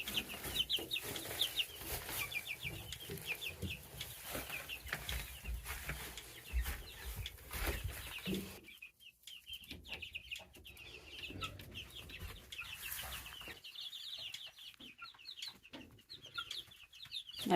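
Chicks and young chickens in a mixed barnyard flock peep and cluck continuously, with dense high chirping over low background rustle; the sound thins briefly partway through before the peeping resumes.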